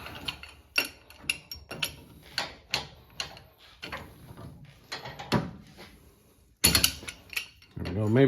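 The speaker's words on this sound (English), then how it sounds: "Let's grab a pipe wrench and we'll try to turn that." Irregular clicks, clunks and scraping knocks come from a pipe wrench turning the rack and pinion on a 2002-2008 Dodge Ram 1500 4x4, ending with a louder metallic clatter and rustle close by.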